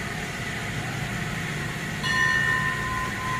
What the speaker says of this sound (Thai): ขบวนรถที่จอดที่ชานชลาที่มีขนาดนี้เป็นขบวนรถชานเมืองขบวนที่ 351